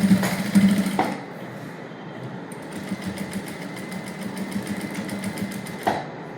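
After a brief start, a sewing machine runs a steady straight stitch on a princess-cut blouse with a continuous, even mechanical hum that stops near the end.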